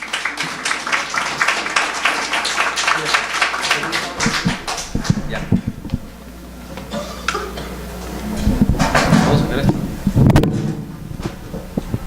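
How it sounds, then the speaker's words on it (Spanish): An audience at a university lecture event applauds loudly for a few seconds. A voice then speaks over a quieter room with scattered knocks. "les invito a todos a dar unas fuertes palmas al señor Franco Mozo."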